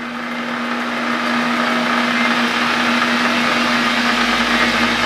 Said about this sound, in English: So we'll start our trusty lathe, and watch the gap.